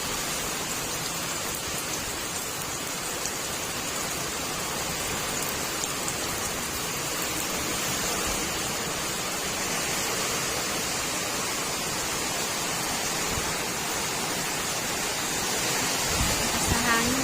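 Heavy rain pours steadily without pause, a dense hiss of drops close by, with gusty wind mixed into the continuous roar.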